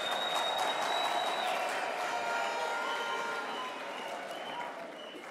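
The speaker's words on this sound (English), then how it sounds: "Let us give them a round of applause." Audience applause fills a large hall at a university autumn graduation ceremony, a dense, sustained wash of clapping that slowly thins toward the end, with no speech over it.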